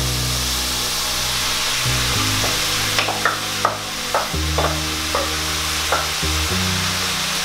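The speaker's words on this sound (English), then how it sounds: "I'm going to give this a little stir so that everything can get nice and mixed up." Tofu, red and yellow peppers and onions fry in a pan with a steady sizzle, while a utensil stirs them in a run of short, regular scraping strokes, close and alone without talk.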